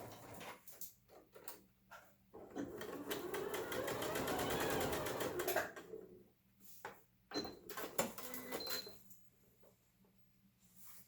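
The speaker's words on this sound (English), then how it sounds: "sew across that angle to round that corner off" A sewing machine stitches fabric scraps for a tote bag in one sustained rapid whirring run of several seconds, framed by softer clicks and handling noises close by.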